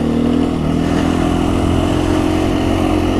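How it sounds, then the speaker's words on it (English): A 350 dirt bike engine held at high revs, a loud, close, steady buzzing drone with no talking. "And it's also, it really likes to rev. It likes to live in those in the high revs"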